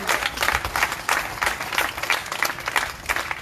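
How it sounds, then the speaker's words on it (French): An audience applauds at an outdoor rally addressing the medical board, a continuous crackle of many hands clapping at moderate level, fairly even throughout with little voice present. "je vais demander un applaudissement à la nature"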